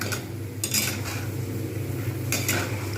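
Fried peanuts are scooped out of a frying pan while making crispy potato fries, giving a few scraping utensil strokes against the pan over a steady low kitchen hum and faint sizzle.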